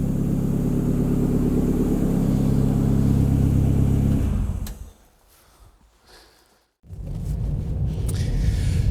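A Ford Sierra RS Cosworth with a freshly rebuilt YB engine idles loud and close, its steady rumble cutting out abruptly, followed by a near-silent pause and then the engine note returning.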